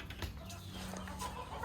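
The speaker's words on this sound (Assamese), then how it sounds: "এইফালে এয়া মুৰ্গী" A village chicken gives a few soft, low clucks, faint and brief against quiet rural background noise.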